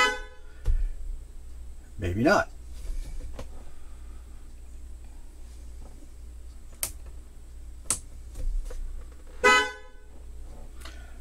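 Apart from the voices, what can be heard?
air horn and vehicle horns sounding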